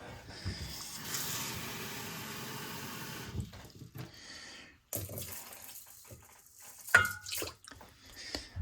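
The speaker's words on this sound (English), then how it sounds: "I'm gonna get 3/4 cups of water in there" Water pours steadily into a stir-fry pan for a pork and cabbage dish, a sustained close splashing flow. It pauses, then resumes in shorter uneven splashes with a few clinks.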